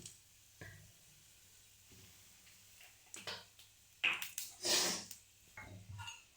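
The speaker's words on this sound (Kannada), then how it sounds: "ಎಲ್ಲ ಸ್ಪೈಸಸ್ ಎಲ್ಲ ಹಾಕಿ ಹೀಗೆ ಹುರಿದ್ರೆ ಆಯ್ತು" Spices for rasam fry quietly in a pan, a soft sizzle running under occasional stirring scrapes and light clinks of a utensil against the pan.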